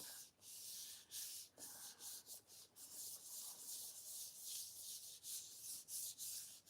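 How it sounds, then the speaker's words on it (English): A rubber stamp is rubbed by hand against card stock, producing soft, faint papery swishes in short repeated strokes with brief pauses, close and alone without any voices. "I'm just going to give it a little bit of a rub"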